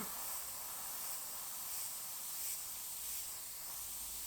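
An airbrush sprays Dr. Ph. Martin's Bombay watercolor ink in a soft, steady hiss, faint and close, holding evenly for a few seconds without talk.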